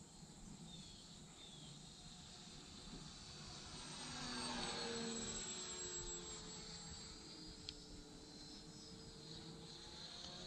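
Tower Hobbies Cherokee EP, a 43.2-inch electric RC airplane, flying at full throttle with a steady motor and propeller whine that swells as it passes closer near the middle, then fades slightly, heard alone outdoors.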